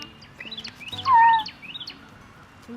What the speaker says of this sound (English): All the bird noises are so pretty here.